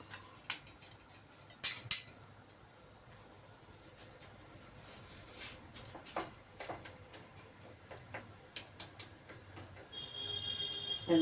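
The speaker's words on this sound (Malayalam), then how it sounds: "അത് തിളച്ച് വെന്തോട്ടെ. നമുക്കിതൊന്ന് ഇളക്കി കൊടുക്കണം." Stirring boiling vegetables in a pot, heard as scattered light clinks and taps of a utensil against the pot's side amid quiet bubbling, with a sharper clatter near the two-second mark.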